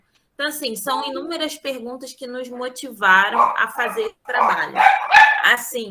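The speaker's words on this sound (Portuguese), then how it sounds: "peço desculpas pelos cachorros, porque quando a gente está de casa não tem jeito" Dogs bark inside a house in loud, repeated yaps that come under and between a person speaking, close by and lasting throughout.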